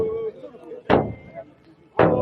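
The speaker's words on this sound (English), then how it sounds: "Like a bodhran-type drum there being banged. Very loud." Two very loud, booming strikes on a bodhran-type frame drum ring out about a second apart during a Viking festival parade march in York, each thump decaying quickly into crowd ambience.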